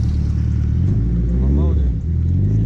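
A Toyota 2JZ engine, swapped into a Nissan 350Z, fires up and settles into a loud, steady rumbling idle with a brief rev, heard close up with voices talking over it.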